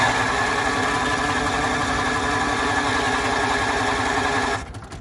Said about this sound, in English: when I try to start it, it actually won't start